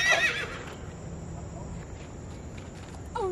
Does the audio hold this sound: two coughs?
no